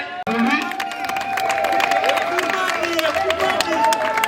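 Guests at a civil wedding ceremony in Kinshasa clap and cheer together, a dense, steady burst of applause from a nearby crowd with raised voices mixed in throughout.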